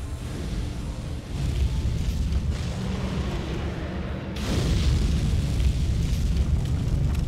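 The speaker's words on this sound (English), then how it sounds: "So this one is obviously the actual fire breath." Fire-breath boss spell in Dark Souls 3, a sustained roaring, rushing blast of flame that grows louder partway through and holds steady, with no talking over it.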